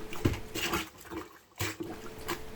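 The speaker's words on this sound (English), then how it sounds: "And this is me completing the second rinse cycle." Clothes being rinsed by hand in a tub of water without power, with soft repeated sloshing and splashing bursts, fairly quiet and close.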